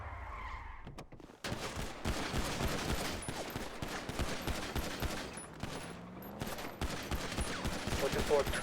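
Sustained bursts of gunfire in a Roblox police roleplay game, dense rapid volleys filling nearly the whole stretch after a brief quieter opening, with a vehicle engine and tire noise mixed underneath.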